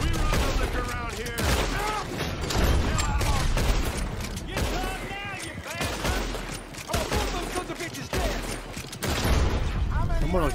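Gunfire in Red Dead Redemption 2, a busy run of shots and bursts that keeps going under shouting voices, loud and dense throughout the fight.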